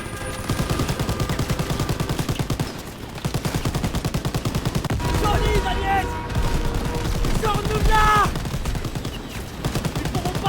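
Rapid machine gun fire rattles in long, dense bursts during a World War II battle in Call of Duty WWII, loud and close, with brief shouted voices between volleys.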